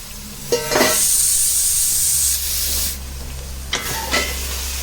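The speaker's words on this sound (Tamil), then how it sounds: "இந்த வெங்காயம் இஞ்சி பூண்டில் நல்லா வதங்கட்டும்" Onions sizzle with ginger-garlic paste in a pan for mutton biryani, a close, loud frying hiss broken by a few sharp stirring scrapes.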